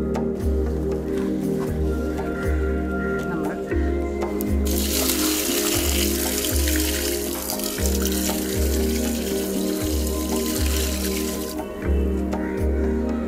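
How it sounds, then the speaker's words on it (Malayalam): Water poured onto a coconut seedling newly planted in a pit, a continuous splashing stream with a louder gush in the middle, set against a steady pulsing mechanical hum. "ഇനി നമുക്ക് കുറച്ച് വെള്ളം ഒഴിക്കാം."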